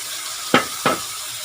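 Thai eggplant stir-fried with pork neck and basil in a pan: two quick spatula scrapes over a faint background sizzle.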